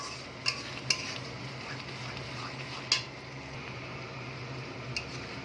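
Chicken kofta curry masala sautéing in a pan, with a steady low sizzle and a few sharp taps of a spoon against the pan as it is stirred, close and fairly quiet.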